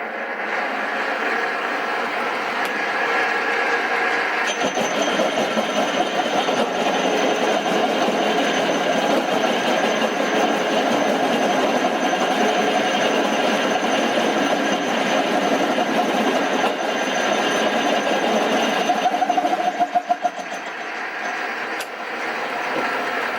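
A Lambretta LI 150 scooter engine runs steadily and loud, a continuous even drone that holds for over twenty seconds before tapering slightly near the end.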